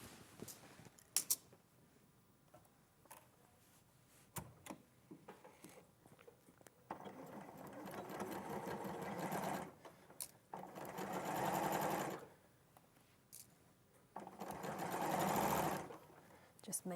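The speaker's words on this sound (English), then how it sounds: "Okay, so I'm just going to quickly sew." A sewing machine stitches a sleeve in several short runs, each a soft rising whir lasting a couple of seconds, with handling noises and speech between the bursts.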